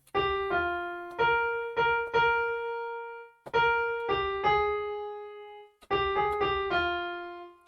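A keyboard plays the blue section of a song alone, three short phrases of clear struck notes and chords, each phrase a few quick notes ringing into a sustained tone, close and evenly loud.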